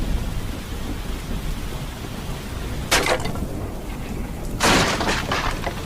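Steady heavy rain pours over a stormy sea in an animated short film, with two sharp, loud thunder cracks bursting through the hiss a couple of seconds apart and no voices.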